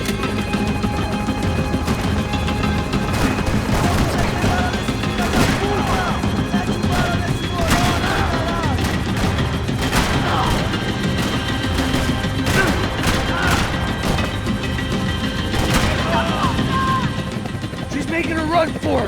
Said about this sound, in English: Max, shoot that bastard!